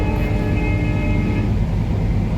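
A Vistadome coach train runs along the line on a Dooars tour, giving a loud continuous rumble and rattle with a faint sustained tone near the start and no talking.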